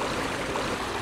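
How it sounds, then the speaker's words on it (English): Tsunami surge water flooding the main street in Kona, Hawaii, a steady broadband rush of flowing water, close and continuous with no voices. "There's just been a huge surge. And the whole street is absolutely covered in water."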